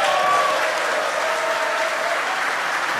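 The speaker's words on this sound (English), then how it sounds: "You can hear the applause behind us." Crowd applause at a SpaceX Crew-4 launch viewing site after the first-stage booster's fourth landing, a steady dense wash of clapping held at moderate distance for the whole stretch, with no talk.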